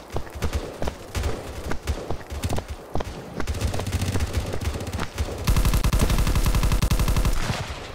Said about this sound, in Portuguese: tô ouvindo tiro aqui na minha frente